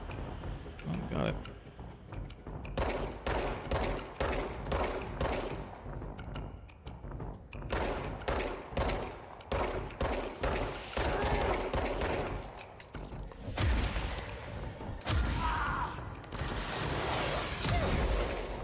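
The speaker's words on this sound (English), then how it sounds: "Those stupid homing rockets." Rapid gunfire and blasts in the game Control, including homing rockets: dense bursts of sharp shots and thuds that repeat through a long firefight, with a voice talking now and then.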